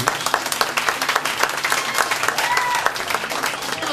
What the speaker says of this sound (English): Let's give Nesa a big round of applause from Flatwood